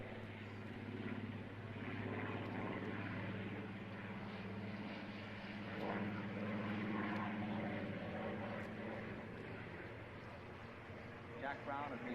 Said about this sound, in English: From the left with the Mark 14 Spitfire, Jack Brown.